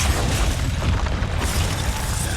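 Thunderous Expulso spell explosion from the Hogwarts Legacy video game, a loud, dense boom that rumbles continuously for a couple of seconds with no talk.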